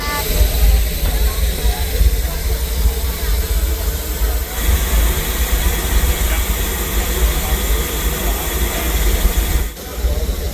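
A small amusement park train ride at Silver Dollar City rumbles along with steady mechanical clatter and hissing, loud and close, with people talking over it.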